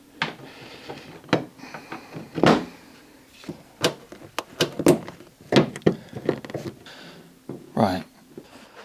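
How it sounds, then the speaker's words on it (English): Irregular clicks, knocks and creaks come up close as a tool levers window glass out of a Porsche 928, with quiet talk between the sharp sounds. "I've got my tool in there and I'm levering it and I can hear it clicking all the way around as it's sort of loosening out."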